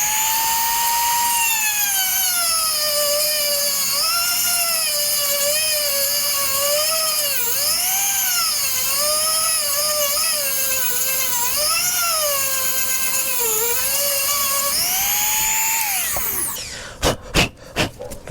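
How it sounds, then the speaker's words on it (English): A Dremel rotary tool carves out material inside a pipe on a truck tailgate, giving a steady high-pitched whine that wavers in pitch as it bites, running continuously close up before cutting off into a few brief knocks. "I have my Dremel here. I'm gonna go ahead and start carving out some of that material inside this pipe."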